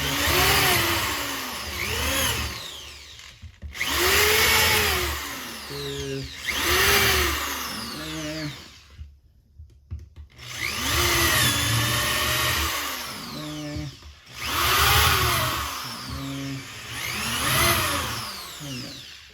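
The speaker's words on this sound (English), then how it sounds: "So I just countersunk some holes, and I'm going to do that with all my boards." A power drill countersinks holes in boards for a kitchen cabinet install, whining up and down in several close bursts of a few seconds each, separated by brief pauses.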